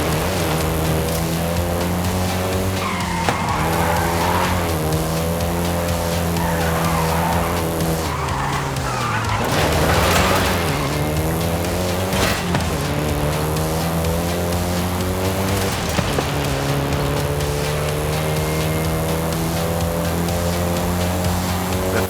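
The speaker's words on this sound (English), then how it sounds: "including the Golf GTI you're driving right now" A Volkswagen Golf GTI in Forza Horizon 5 drives hard with a loud, sustained engine drone that rises and falls through gear shifts, while tires skid and squeal repeatedly throughout.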